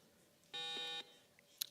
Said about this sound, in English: let's check the buzzers